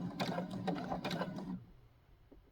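A sewing machine stitches across a tiny seam in a quick mechanical rattle for about a second and a half, then stops and leaves quiet room sound.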